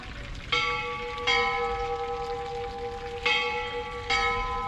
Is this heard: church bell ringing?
yes